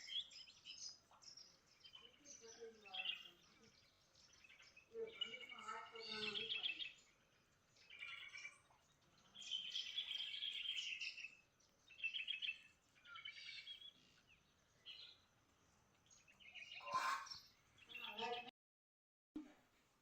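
Sparrows that nest in a house chirp in repeated bright bursts, some clustered and busy, with short quiet gaps between them, close and fairly clear.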